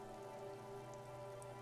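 Steady rain falls in the rain-soaked city of Disco Elysium, a dense, even hiss with a low ambient drone beneath it, continuous and quiet with no voices.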